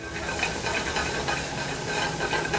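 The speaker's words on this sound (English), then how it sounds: "once the mushrooms get a little sauteed like they are" Mushrooms sauté in a hot pan in a restaurant kitchen, a steady, even sizzle and hiss with no talk.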